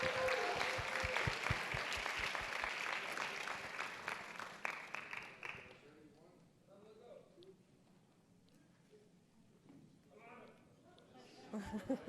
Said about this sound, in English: Let's give a big round of applause for school number 4 winners.